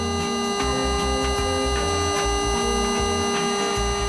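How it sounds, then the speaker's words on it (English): Aquaglide 12V turbo high pressure pump starting up: a loud, steady electric hum and buzz, continuous and close, with a pulsing low throb underneath. "The pump will first sound something like this."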